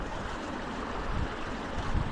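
Water flowing steadily through a creek, with the listener standing mid-stream, a continuous broadband rushing wash close by that holds an even level and swells slightly near the end.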